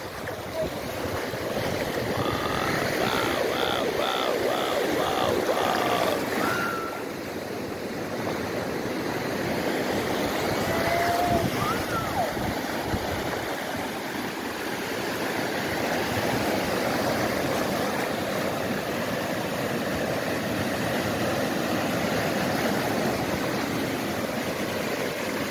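Sea waves break and wash steadily along the beach at night at La Manga, a continuous rushing surf heard close, with a few faint distant chirps early on and no speech.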